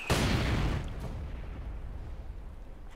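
An artillery shell bursts close by in Company of Heroes 2 with a heavy boom, then the rumble fades into a long low battlefield roar.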